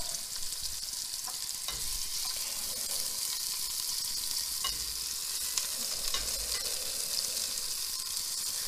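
Eggplant sautéing in a pan sizzles continuously with a broad hiss, broken by occasional stirring scrapes and clicks, up close and with no one talking.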